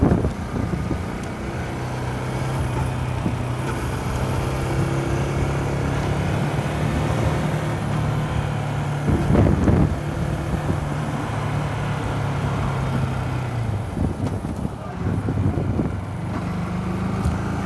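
A car takes a series of turns, its engine holding a steady low drone mixed with wind rumble throughout, with a brief louder swell midway and no talking.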